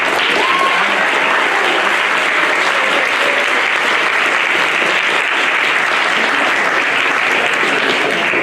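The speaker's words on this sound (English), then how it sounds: "Another round of applause, please" A room full of spectators applauds at an academic games competition final, continuous close clapping that stays loud and even from start to finish.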